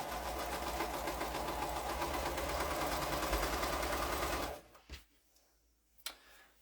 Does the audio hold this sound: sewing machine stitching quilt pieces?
yes